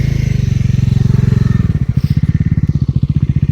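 Bajaj Pulsar NS 400 and Dominar 400 motorcycles riding close by: a loud, rapid engine thrum that steadies, then slows into distinct pulsing beats as the throttle eases.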